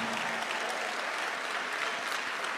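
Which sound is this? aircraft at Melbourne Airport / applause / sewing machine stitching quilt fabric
applause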